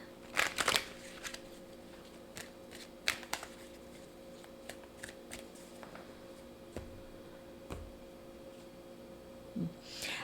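Tarot cards shuffled during a card reading: a quick burst of riffling near the start, then scattered soft card ticks and slides over a steady low room hum.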